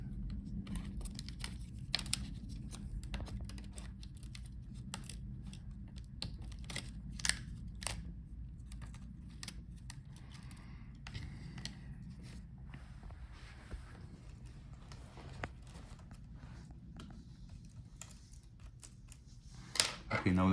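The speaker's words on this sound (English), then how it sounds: "and unscrew all the screws." Screws being undone during a teardown of an HP Envy 17m laptop, heard as soft, repeated close-up clicks and small scrapes of a screwdriver over a low steady background hum.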